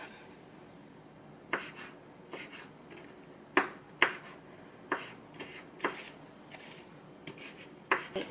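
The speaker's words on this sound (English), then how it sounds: "now we're going to get a knife. And we're going to go ahead and cut these up." A knife chops seeded poblano peppers on a cutting board for potato and pepper tacos dorados, giving about ten sharp, irregularly spaced taps close by, with no talking.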